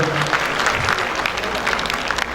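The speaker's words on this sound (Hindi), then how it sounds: "जोरदार तालियां" Dense applause from an audience at an installation day ceremony, steady and close throughout, with voices mixed into the clapping.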